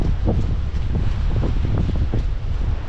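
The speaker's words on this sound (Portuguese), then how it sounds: "E o vento sudoeste que vem do mar" A southwest wind off the sea at Arraial do Cabo buffets the microphone in loud, gusty roars, with a low surf-like rumble underneath.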